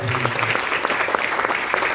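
Applause from an audience at the opening of a science exhibition after a song performance, a dense steady clatter of many hands clapping together for two seconds, close and full with no break.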